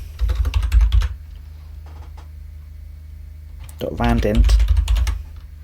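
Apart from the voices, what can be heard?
typing code on a computer keyboard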